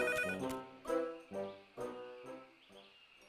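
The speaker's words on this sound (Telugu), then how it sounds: "సరే, మనం వెళ్ళి ఫోన్ చేద్దాం" A cartoon telephone rings in a series of bright, rhythmic bursts, about six short ringing pulses in a row, moderately loud over a quiet background.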